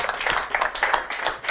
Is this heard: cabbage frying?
no